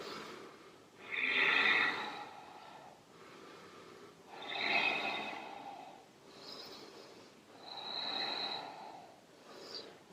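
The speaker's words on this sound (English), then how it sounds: "And breathe, 4 breaths." Slow, deep breaths during a yoga pose, three long audible inhale-exhale cycles, close and clear with soft airy rasp and no other sound.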